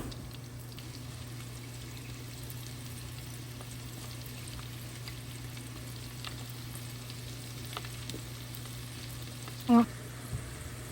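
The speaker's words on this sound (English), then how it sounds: "we're just going to drop single pieces in the oil" Coated okra pieces fry in hot oil, a faint steady sizzle over a low hum, with a brief clink near the end.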